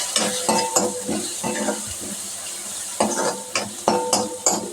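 A spoon stirs turmeric powder into food in a pan in a Mumbai home kitchen, with repeated scraping strokes over a light sizzle, arriving in two clusters with a short pause between. No one speaks.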